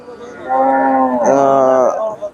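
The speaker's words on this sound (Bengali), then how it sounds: "এখানে একটা জার্সি গাভী দেখেন এই যে গাভীটা জার্সি" A Jersey cow at a cattle market lets out a loud, close, drawn-out moo that rises and breaks partway through, standing clear of background noise.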